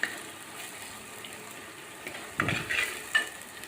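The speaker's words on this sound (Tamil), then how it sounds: "நல்லா 2 பழுத்த தக்காளி வந்து அரிஞ்சு வச்சுருக்கேன். அப்போ அதுதான் இப்போ சேர்த்துருக்கேன்." Chopped ripe tomatoes hit a pan with ginger garlic paste, giving a low, quiet sizzle with a couple of louder bursts of spattering and stirring partway through.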